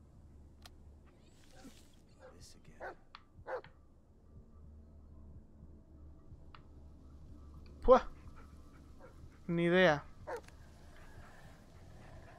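A dog in the video game Blair Witch lets out a couple of sharp barks and a brief whining whimper amid quiet game ambience, with someone talking intermittently.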